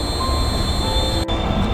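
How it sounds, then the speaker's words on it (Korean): A KTX high-speed train pulling into Jecheon station in Korea, a steady broadband rumble and rail hiss with a thin high whine, continuous and fairly close, no voices. "KTX가 제천 역사에 진입하고 있습니다."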